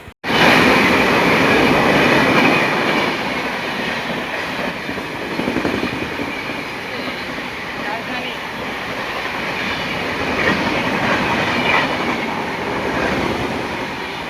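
Passenger train 10106 runs on rails with a loud, continuous rumble and rhythmic wheel clatter, heard close from on board.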